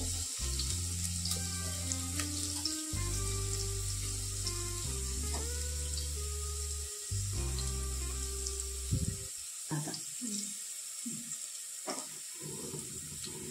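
Cumin seeds and asafoetida sizzling in hot oil, a continuous crackling fry under a background of low steady tones that cut out midway, after which scattered clinks and sputters continue close by.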